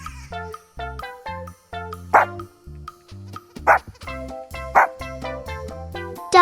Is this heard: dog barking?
yes